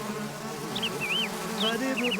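Bees drone steadily in the video game Zork: Grand Inquisitor, a close, even hum with a few high, warbling chirps over it and no speech.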